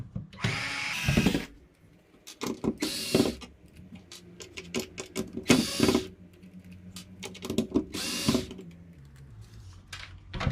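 Screws being backed out of the battery terminal on an Ozito cylinder mower with a cordless power drill, in several short buzzing bursts separated by pauses and small clicks and clatters of handling.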